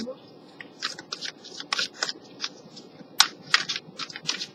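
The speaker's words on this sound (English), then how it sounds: "Okay, so I'm shuffling." Crisp, irregular bursts of tarot cards being shuffled, close and fairly quiet, with short pauses between riffles over a low room hum.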